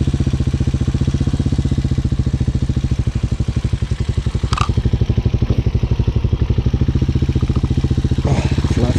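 Hawk 250 motorcycle engine idles or putters slowly through a public park, with a steady rapid loud thumping throb close up and a couple of brief clacks over it.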